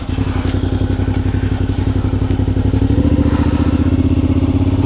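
A 2019 Suzuki V-Strom 650XT motorcycle engine runs steadily and loud on a national forest road, a rough low throb that swells slightly toward the end, with a few faint clicks over it.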